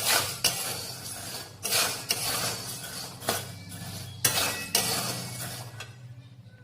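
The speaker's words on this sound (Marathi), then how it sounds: "डाळीला सारखंसं भाजताना हलवत राहायचं आहे" Lentils being dry-roasted and stirred in a pan, with periodic scraping sweeps of a spoon and faint clinks against the metal over a low background hum, close and without speech.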